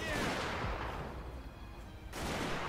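Soldiers' gunfire in the Fall of the Samurai video game: a dense, rolling volley of rifle shots with booming reports, easing slightly midway before swelling again, loud and without talk.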